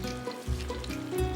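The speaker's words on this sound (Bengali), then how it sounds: "পেঁয়াজ অলমোস্ট ভাজা হয়ে গেছে" Onion frying in oil in a pan while preparing a rohu fish curry, a steady close sizzle with light stirring scrapes and no voices.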